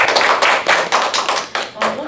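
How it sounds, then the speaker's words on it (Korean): Audience applause at a Korean smart-work lecture, a dense patter of hand claps that swells and dips in loudness across the clip, with no talking over it. "이분들에게 또 감사의 박수를."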